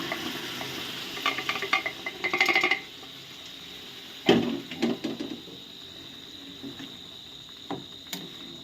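A spoon stirs boiled potatoes and peas into fried masala in a pan for Bengali ghugni, making short clustered scraping and clattering bursts, then a sharp knock and a few lighter scrapes between quieter gaps.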